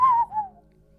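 A human voice whistles a wavering, falling tone meant to mimic a curious sound between a whistle and a horse whine, one short glide lasting under a second, close and clear.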